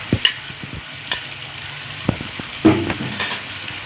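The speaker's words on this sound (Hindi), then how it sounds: "अभी शामिल करेंगे 1 चम्मच जो है ना अदरक और लहसुन का पेस्ट" Ginger garlic paste sizzling in a pan with chicken and cabbage, with scattered stirring scrapes and clinks of a spoon against the pan over a low, steady frying hiss.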